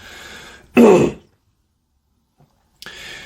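A single loud, raspy throat clearing, close up, following a stretch of low background noise and then silence.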